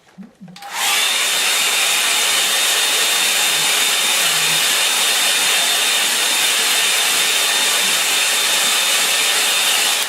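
A hair dryer blows steadily and loudly on a watercolour landscape painting, switching on after a brief pause and running as a continuous close whoosh with a faint high whine, no talking over it.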